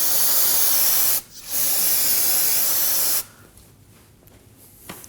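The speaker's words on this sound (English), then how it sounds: "use some brake parts cleaner, spray the area, and clean off any excess fluid that is on the caliper." Brake parts cleaner hisses from an aerosol can onto a front brake caliper of a 2011-2016 Kia Optima, two strong continuous bursts with a short break between, then quiet.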